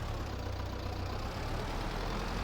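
A tractor engine in Farming Simulator 22 runs at a steady idle, a continuous low rumble with even, unbroken loudness throughout and no talk.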